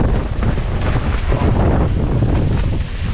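Strong windstorm gusting over a microphone outdoors at a race, a loud continuous roaring rumble buffeting without pause.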